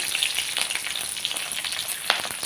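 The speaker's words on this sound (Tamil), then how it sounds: "இப்போ பச்சை மிளகாயும் வத்தலும் போட்டிருக்கேன்" Green chillies and dried red chillies fry in a pan with urad dal for a mint, coriander and curry leaf thuvaiyal, giving a continuous close crackling sizzle with a few sharper pops and no voices.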